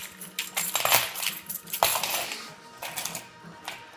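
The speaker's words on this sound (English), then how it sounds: "She doesn't usually get to play with the keys, apparently." A bunch of keys jingles and clinks in irregular bursts as a small child shakes and plays with them, close and fairly loud, with short pauses between clusters of metallic rattles.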